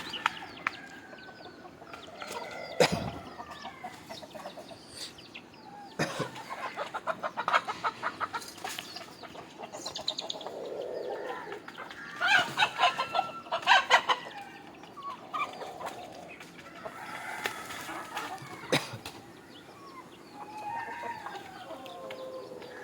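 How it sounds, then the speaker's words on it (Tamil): Country chickens and chicks cluck repeatedly at close range, with scattered squawks and a rooster-like call rising now and then over a busy farmyard background. "கோழி கூட திறந்தோடனே கோழி குஞ்சிலெல்லாம் வந்துட்டு"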